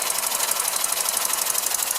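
A hand-built 1912-design oscillating engine running a line shaft: a fast, steady, even chuffing and ticking beat at close range, bright and hissy, with no pauses and no talk.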